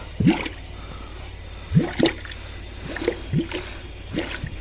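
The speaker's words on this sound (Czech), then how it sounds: "Ta voda, co je, tak odtíká dopředu." Water draining away through a drain pipe, heard as a series of gurgling, bubbling pulses at uneven intervals over a low background rumble, with no speech.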